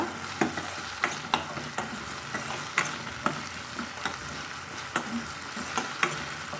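Crushed turkey berries sauté in a pan, with a steady sizzle under regular light taps and scrapes of a spoon stirring them, close and moderately quiet, no voices.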